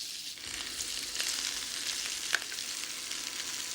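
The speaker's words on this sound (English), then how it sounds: "Great shrimps, just saute them a little bit like that" Shrimp sautéing in a skillet gives a steady, close sizzle throughout, with one sharp click of a utensil against the pan near the end.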